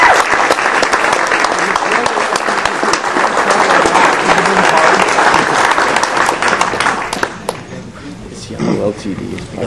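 A crowd at an awards event gives loud, sustained applause for the official of the year, dense clapping that fills most of the clip before thinning toward the end, with voices mixed in.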